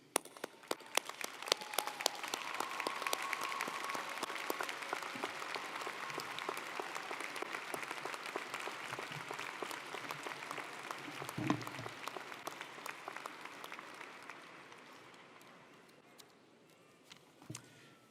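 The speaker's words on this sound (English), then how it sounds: "please rise and give your parents a rousing round of applause" A large commencement crowd rises in a sustained standing ovation for parents, dense applause swelling early and tapering off over about eighteen seconds in a big hall.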